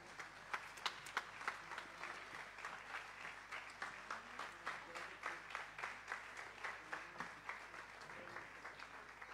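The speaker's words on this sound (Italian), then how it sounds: "Un applauso." At a 2024 dance and music event in Anacapri, Italy, an audience gives faint, distant applause that settles into steady rhythmic clapping in unison.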